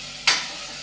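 A single quick scrape of a spoon stirring mixed vegetable sambar in a pan, a brief sizzling swish over a low background hiss.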